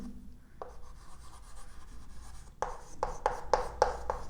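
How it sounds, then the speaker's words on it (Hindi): Marker or chalk writing on a board during an accounting lesson, heard as soft scratchy strokes, faint at first, then a series of sharper, louder strokes and taps toward the end, with no talk. "और लास्ट में लिखेंगे यहाँ मिसलेनियस"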